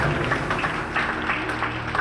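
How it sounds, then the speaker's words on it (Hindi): A congregation at a Sunday church service clapping together, a brief burst of dense, loud applause filling the hall. "एक बार परमेश्वर के लिए जोरदार ताली बजाएं"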